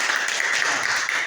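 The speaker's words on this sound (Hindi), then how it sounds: "तालियां बजाओ।" Schoolchildren clapping together in a Class 3 maths lesson, a steady, dense patter of many small hands close by, lasting about a second with no talk over it.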